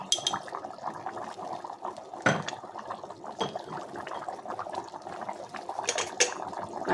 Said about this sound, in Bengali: খুব জোর ফুটছে